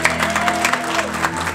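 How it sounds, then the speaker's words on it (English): Wedding guests clap in a brief, steady burst of applause at the reception, with a sustained tonal hum running underneath. "Give a round of applause."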